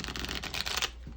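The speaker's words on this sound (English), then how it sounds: "So I'm just going to shuffle one more time this deck, which is the Moon Compass Tarot." A Moon Compass Tarot deck is riffled in one close, rapid shuffle, a dense papery fluttering that runs under a second and then stops.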